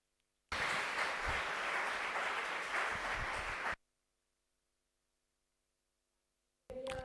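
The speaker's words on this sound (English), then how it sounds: "So I want a big applause for them" A burst of applause from an audience at a talk lasts about three seconds and then cuts off abruptly into silence. A brief sound returns at the very end.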